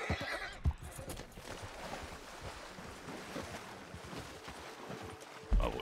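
Horse neighs and clopping hooves from Red Dead Redemption 2 online, near a stable, with a sharp whinny early on and another loud one near the end over a steady outdoor wash of ambience.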